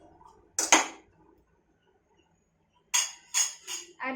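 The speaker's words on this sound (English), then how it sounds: "Give it a stir." Pumpkin being stirred in a pan for upma, heard as short scraping clatters of a utensil against the pan: one near burst early, then a quiet gap, then a quick cluster of three or four scrapes.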